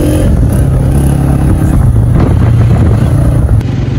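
Motorcycle engine running loud and close during a ride in Dera Ghazi Khan, a steady rumbling drone with wind noise, no talk.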